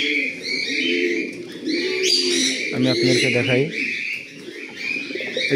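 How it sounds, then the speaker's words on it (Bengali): Several pigeons of assorted breeds, kept in a loft where some are nesting and laying eggs, coo and chirp close by in soft, overlapping calls, while someone talks over them throughout. "দেখেন বিভিন্ন ধরনের বিভিন্ন জাতের কবুতর"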